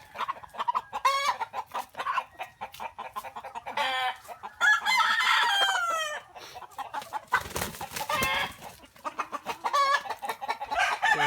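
Roosters crow repeatedly and hens cluck busily on a native chicken farm, a loud, close, overlapping chorus of calls with a short burst of flapping or scuffling midway and no talking.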